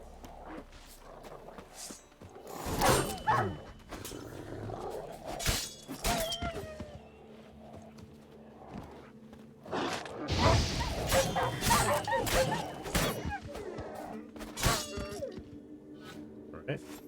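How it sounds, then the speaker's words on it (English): Dogs bark in The Witcher 3 amid game combat sounds, with scattered barks, crashes and footsteps mixed under someone talking throughout. "Some dogs. Another one just spawned."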